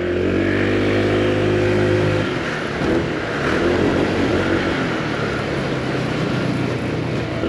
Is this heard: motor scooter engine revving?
yes